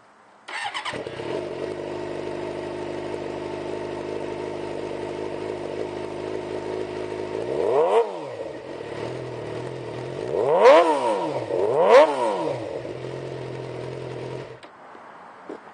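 A 2006 Suzuki GSX-R600 sportbike starts and settles into a steady idle, then gives three sharp revs that rise and fall, close and loud with no talking.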